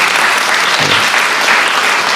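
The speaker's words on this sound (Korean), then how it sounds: "박수 한번 부탁드립니다" Dense, loud crowd applause at a Korean political rally with the president in northern Gyeonggi, continuous clapping from a large gathering throughout.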